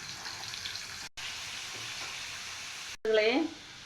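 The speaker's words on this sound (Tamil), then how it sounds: "கடலை கொஞ்சம் கொஞ்சமாக போட்டு எடுத்துடலாம்" Konda kadalai chickpeas frying in hot oil give a steady, close sizzle that runs almost the whole time, broken by two brief gaps, with a short burst of voice near the end.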